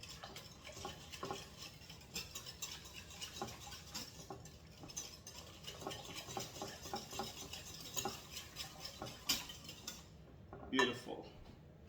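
Greek yogurt being stirred into a topping for fluffy pancakes, a utensil scraping and clinking steadily against a bowl at close range for several seconds, with a sharper clatter near the end.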